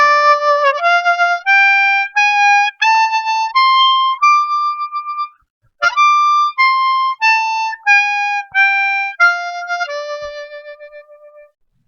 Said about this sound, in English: The blues scale starting on 4 hole draw sounds like this.